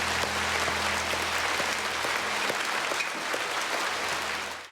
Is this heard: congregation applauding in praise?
yes